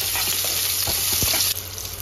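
Cut mango being stirred in a hot spice tempering, with a loud continuous sizzle and frying hiss and a few soft scraping knocks of the spoon against the pan, no talking.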